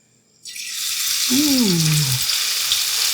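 A spoonful of grated potato pancake batter dropped into about a quarter inch of hot oil in a pan, a loud steady sizzle rising suddenly and holding, with a brief gurgling bubble in the middle.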